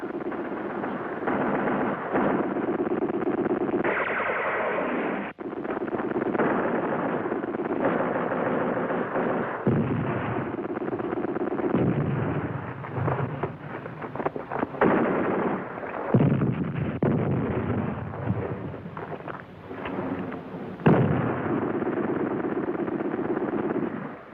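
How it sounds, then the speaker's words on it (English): A war film battle at El Alamein fills with dense, continuous gunfire and mortar fire, heavy booms and rattling bursts running steadily at loud volume with no clear speech. "Lay down mortar fire."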